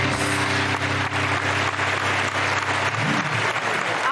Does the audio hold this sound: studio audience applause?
yes